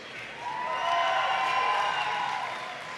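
Crowd at a Comic-Con esports stage event for a CS:GO tournament cheers and applauds in a sustained, dense wash of noise that swells and holds for a few seconds, no talk over it.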